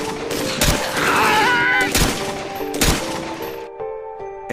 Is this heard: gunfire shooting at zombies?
yes